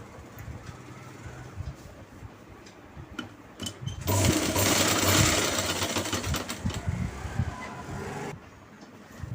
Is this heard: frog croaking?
no